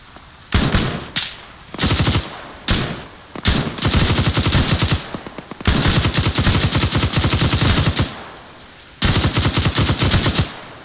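A video game machine gun chambered in 7.62 rips through repeated long bursts of rapid automatic fire, loud and close, with brief pauses between strings of shots and no talking.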